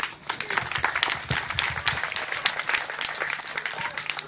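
An audience at a tribute gathering applauds an introduced guest, with dense, lively clapping that runs steadily at moderate volume. A few faint voices rise beneath it.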